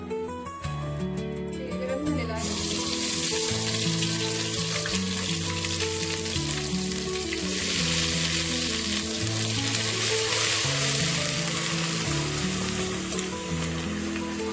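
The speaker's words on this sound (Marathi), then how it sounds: "गरजेनुसार आपल्याला जेवढी ग्रेव्ही बनवायची आहे किंवा पातळ रस्सा बनवायचा आहे तर त्यानुसार आपण मसाला त्याच्यामध्ये टाकून भाजून घेऊया" Spice masala sizzles and fries steadily in a pan for a village-style chicken curry, a dense continuous crackle under background music with no talk.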